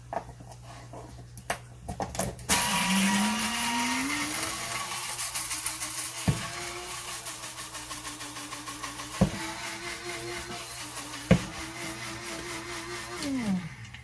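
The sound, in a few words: coffee grinder grinding egg shells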